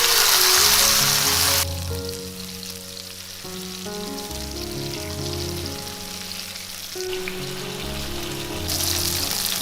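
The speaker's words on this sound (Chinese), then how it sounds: "接着把冬菇放进来煎" Shiitake mushrooms pan-frying in a flat pan with a little oil and garlic over moderate heat, a steady crackling sizzle heard under background music, no talking.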